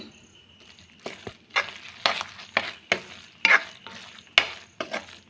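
Egg bhurji with chili powder being stirred in a pan: a series of distinct scraping strokes, roughly one every half second, over a steady low sizzle, close and clear with no talking.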